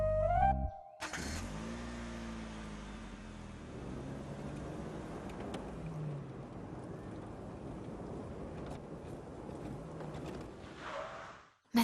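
A car's engine starts and settles into a steady mid-pitched run while the car reverses, with a few revs, a short musical tone just before and a faint sound at the end.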